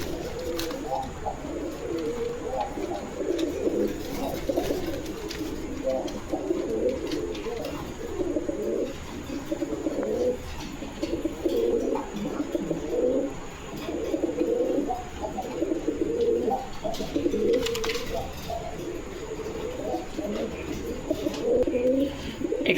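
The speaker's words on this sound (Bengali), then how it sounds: "এখানে একজোড়া গোল্লা কবুতর দেখতে পাচ্ছেন" A pair of Golla (Mukhi) pigeons coo on a farm, with soft, low, throaty calls overlapping continuously at close range.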